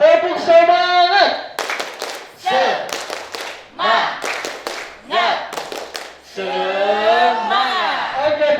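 Group of youths at an adolescent community program performing a rhythmic spirit clap, sharp bursts of claps in patterned groups alternating with chanted and shouted voices, close and loud.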